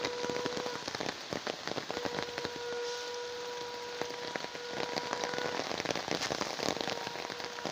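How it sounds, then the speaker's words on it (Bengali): Steady heavy rain pouring down, a dense continuous hiss with scattered drops pattering close by, no voices. "সকাল থেকে এক নাগারে বৃষ্টি হচ্ছে"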